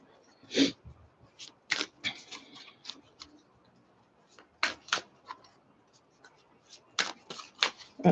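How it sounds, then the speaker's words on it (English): A tarot deck shuffled in reverse by hand, heard as close, sharp bursts of card flicks and riffles with brief quiet gaps between them, fairly soft overall and without talking. "They want to reverse shuffle for some reason."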